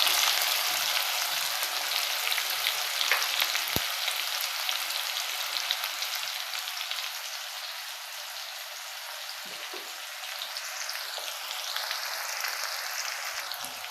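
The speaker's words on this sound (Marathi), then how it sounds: "आणि बडीशोप टाकून झाल्यावर त्याच्यासोबत कांदा टाकून घेऊया." Fennel seeds and onion frying in a pan for kande pohe, a steady close sizzle that starts strong and eases slightly, with a brief clink near the start and no talking.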